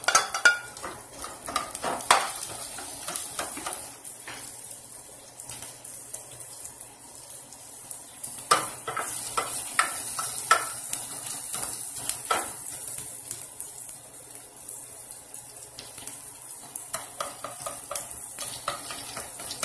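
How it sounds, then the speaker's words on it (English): Garlic and onions stir-fried in a little oil for pork adobo, with a continuous sizzle broken by frequent sharp clatters of a utensil scraping the pan. Faint running water is also audible, and nobody speaks. "Stir fry natin yung garlic. And also the onions."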